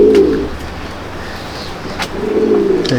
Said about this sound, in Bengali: সব মস্তান ব্রিডের পায়রা এগুলো